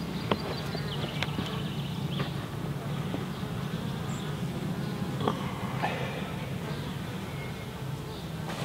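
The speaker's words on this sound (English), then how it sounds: "Look at the amount of bees, there's actually quite a few." Honey bees buzz around an open beehive during a hive check for new queens, a soft continuous hum close by with occasional light clicks and knocks, no speech.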